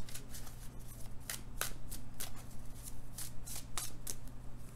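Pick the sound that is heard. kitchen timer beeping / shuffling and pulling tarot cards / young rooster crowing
shuffling and pulling tarot cards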